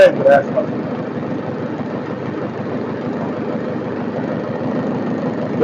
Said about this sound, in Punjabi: ਟਰੈਕਟਰ ਦਾ ਚੰਗਾ ਇੰਜਨ ਪੂਰਾ ਓਕੇ ਜੀ